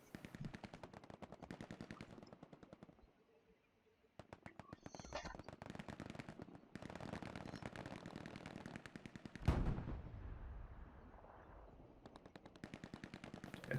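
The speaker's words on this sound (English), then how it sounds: "Sovereign's here having a Saving Private Ryan here being set up in the church steeple with the machine gun" Machine gun fire from a church steeple in a combat video game, with rapid, evenly spaced bursts of shots repeating across the clip, a short pause between bursts and a louder blast near the end, with voices faint underneath.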